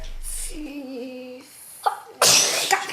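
A sudden, loud, close sneeze bursts out near the end, preceded by a sharp intake of breath and a short tonal vocal sound.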